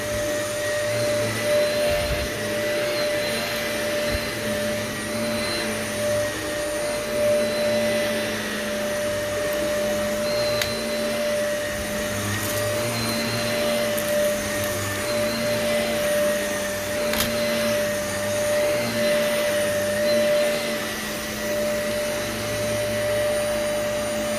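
A carpet-cleaning vacuum runs continuously while treating heavy cat urine in carpet, a loud steady motor whine with a constant tone and rushing airflow, no voices.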